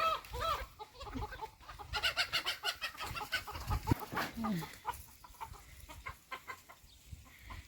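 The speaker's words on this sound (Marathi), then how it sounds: "आमचा शेरो सांगतोय कोंबड्या आल्यापासून कोंबड्याच्याच मागे कोंबड्या सोडल्यात अंडे कोंबड्या" Chickens cluck and squawk nearby in irregular bursts, several birds overlapping, with soft rustling between calls.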